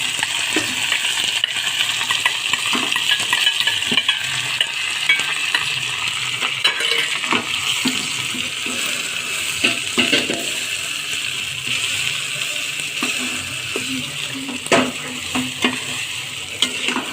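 Steady sizzling of peas frying in a pan, with a spatula scraping and clinking against the metal as they are stirred, close and continuous with no talk.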